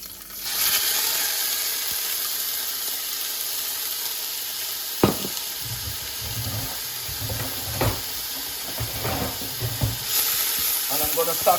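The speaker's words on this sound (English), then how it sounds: "I'm gonna saute for 2 to 3 minutes" Onion, garlic, fresh thyme and Scotch bonnet skin sauteing in oil in a pot, a steady close sizzle running throughout with occasional stirring clinks and scrapes over it.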